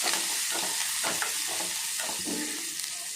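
Onions sautéing in a pan with curry leaves and salt, a steady close sizzle broken by repeated scraping strokes of a spoon stirring through the pieces.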